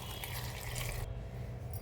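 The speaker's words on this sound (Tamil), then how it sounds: "இப்போ தண்ணி சேர்த்துக்கிறேன்." Water splashes and trickles steadily into a pressure cooker of spiced ash gourd, a close, continuous pouring sound with no talking.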